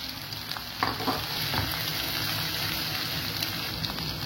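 Chopped ginger and garlic fry in a pan of oil, a dense close sizzle with spatula scrapes and stirring knocks layered over it, continuous and without talk.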